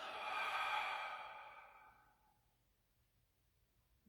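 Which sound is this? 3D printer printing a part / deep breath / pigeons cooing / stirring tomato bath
deep breath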